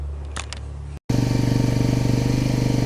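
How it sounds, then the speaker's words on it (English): A Honda TRX250 ATV barn find, freshly revived, idles steadily after a brief cutout, its single-cylinder engine thumping in a fast, even rhythm, loud and close with no speech. "Okay, it's idling away, smoking a little bit, but this is probably the longest it's been running"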